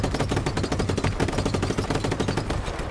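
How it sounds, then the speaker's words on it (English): Hip-fire gunshots in a video game, a fast, steady automatic rattle of loud, close shots that carries on throughout without a pause. "Hip fire."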